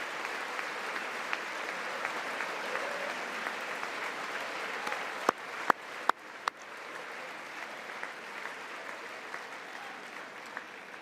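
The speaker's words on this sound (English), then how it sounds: "We got the military cheering, yay." A military audience at a State of the Union address applauds in steady, moderately distant clapping that lasts throughout. A few sharp louder claps and knocks stand out midway.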